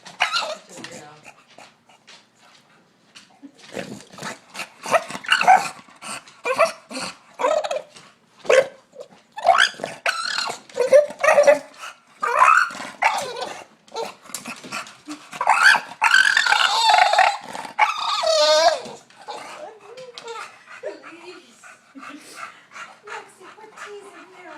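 A dog gives long, wavering squeals that rise and fall in pitch, with panting between them, while people talk and laugh nearby.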